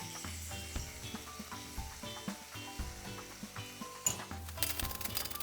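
Red onion with salt frying in oil in a pan for Tamil-style idli sambar, a soft steady sizzle with occasional stirring scrapes, quiet and close, with a brief louder clatter near the end.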